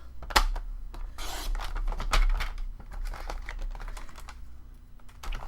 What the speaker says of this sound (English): I am going to trim a tiny bit off.